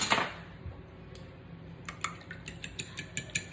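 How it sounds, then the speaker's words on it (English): A fork whisks an egg mixture in a bowl, giving a run of quick light metallic taps and clicks that grow more regular toward the end, after a brief louder clatter at the start. "I just need a fork to whisk this all up"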